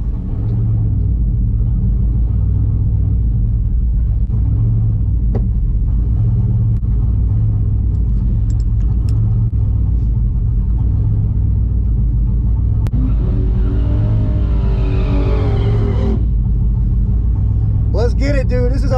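A full-size race truck engine rumbles steadily at a drag race in Fulton, Mississippi, loud and continuous, with a revving rise near the end and voices talking over it.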